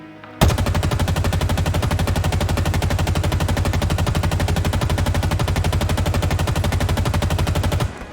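An assault rifle in Halo Infinite fires one long unbroken automatic burst of rapid, evenly spaced shots, loud and close for about seven seconds before stopping abruptly.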